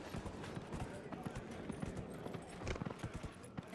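Horse hooves clip-clopping in the fantasy role-playing game Dragon Age Inquisition, a steady quick rhythm of galloping beats over game ambience, with someone talking over it.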